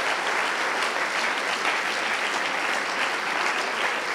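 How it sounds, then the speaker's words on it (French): Crowd at a political party's summer conference gives steady, dense applause for the volunteer organising team, loud and continuous without pause. "Et vous pouvez les applaudir."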